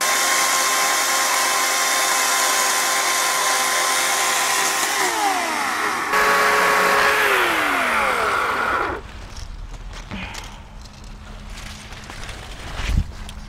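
A chainsaw revs loud and close in a yard where tall sunflowers are being cut, its whine sweeping up and down in pitch several times before dropping to a rougher, quieter idle with a few clunks.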